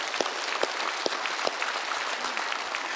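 A church congregation claps together during a worship service, steady dense applause at moderate distance throughout, with no voices over it.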